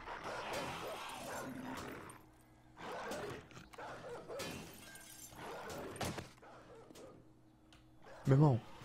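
A dog barks in the survival game 7 Days to Die, a short harsh yelp near the end that follows steady game noise and someone talking.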